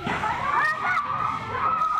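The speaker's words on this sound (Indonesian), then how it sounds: "Warga panik dan berteriak histeris." Residents scream and shout in panic at a burning pickup truck, their high, strained voices blending into one continuous outcry with no clear breaks.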